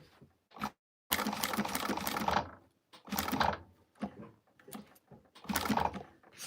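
A sewing machine stitches pieces onto a project in several bursts of rapid whirring clatter, each lasting a second or so, separated by quiet pauses.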